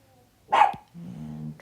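A dog gives one sharp, loud bark nearby, followed by a low, rumbling growl-like sound.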